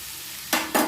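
Chopped raw mango sizzles and is stirred in a hot pan, with a steady frying hiss broken by two sharp bursts of scraping as the pieces are tossed.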